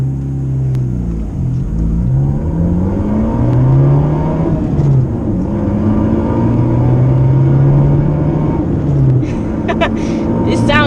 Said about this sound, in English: I'm just going to film a bit of acceleration from inside the car